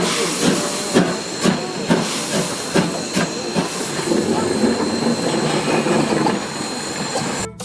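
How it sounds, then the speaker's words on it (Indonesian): A Thomas toy train gives off rhythmic, hissing steam puffs that repeat at a regular pace, then settle into a steadier chuffing hiss. The sound is close and moderately loud, with faint background murmur. "Ada kereta Thomas."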